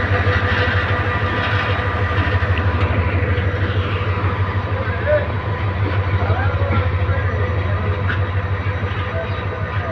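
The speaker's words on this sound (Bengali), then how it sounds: "রংপুর অভিমুখী রংপুর এক্সপ্রেস ট্রেনটি ঢাকা কমলাপুর রেল স্টেশন ছেড়ে যাচ্ছে" Rangpur Express departing Kamalapur railway station in Dhaka: sustained nearby rumble and rhythmic clatter of carriages over the rails, with a constant low engine hum throughout.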